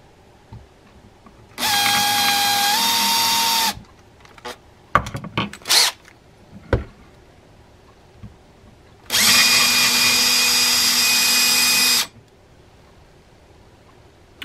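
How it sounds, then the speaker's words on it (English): A handheld power drill whirs in two sustained bursts of a few seconds each, drilling the head off a broken screw in a Mitchell 300 fishing reel, separated by clicks and scraping handling noises. "drilling down to drill the head off. We're going to try this with the handheld"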